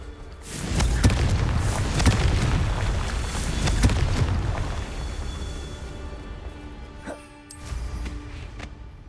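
Confringo fire spells cast in the game Hogwarts Legacy, a run of loud booming blasts with sharp cracks that rumble through the first few seconds, fade, then return as a shorter burst near the end.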